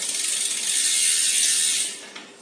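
Front derailleur cage on a road bike rubbing against the chain while it runs on the large rear cog, a steady close hissing, scraping whir lasting about two seconds before easing off, with no talking.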